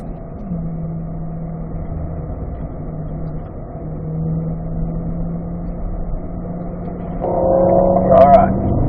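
A C8 Corvette on the Spring Mountain race track, its engine a steady low drone inside the cabin that swells and rises near the end, with someone talking over it.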